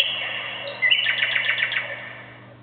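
An iPhone voice control app's synthetic electronic alarm tone plays a bright, warbling chirp pattern, a steady tone breaking into a quick series of rapid beeps.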